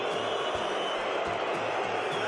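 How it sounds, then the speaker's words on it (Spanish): A large stadium crowd at the Rugby World Cup opening ceremony booing French President Macron, a steady, dense roar of jeering that holds at the same level throughout with no break. "Recibe abucheo masivo en la inauguración del Mundial de Rugby."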